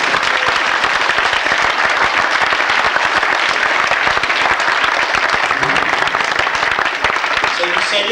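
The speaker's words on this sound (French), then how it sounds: "Est-ce que nous pourrions acclamer le Seigneur très très fort?" A church congregation applauds and cheers the Lord, loud sustained clapping from a large crowd mixed with shouting voices, steady from start to finish.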